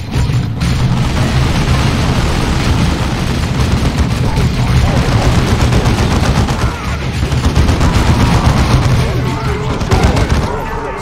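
Gunfire from the real-time strategy game Dawn of War 2 rattles on continuously as dense, overlapping bursts of weapons fire and booms, loud and unbroken throughout, with battle voices mixed into the din.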